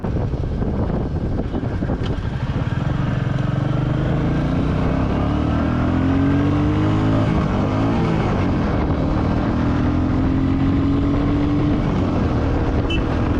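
Royal Enfield Meteor 350 single-cylinder motorcycle engine pulling steadily under acceleration, its rising drone carried under heavy wind rush over the microphone, continuous and fairly loud throughout.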